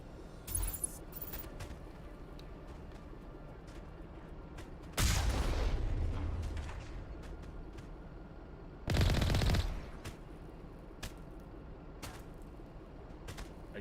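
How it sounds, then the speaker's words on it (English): Gunfire hitting the floor in Mass Effect Legendary Edition: two heavy, loud bursts of shooting a few seconds apart, each ringing out over a low steady hum, with a few faint sharp clicks in between. "Are you shooting the floor?"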